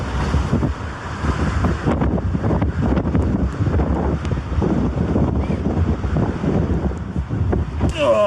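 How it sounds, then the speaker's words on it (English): Strong wind gusts batter a tent pitched beside a stone wall on an exposed hike, a continuous roaring, buffeting rush close to the microphone with surging swells and no pauses. "securing it against the screaming gusts"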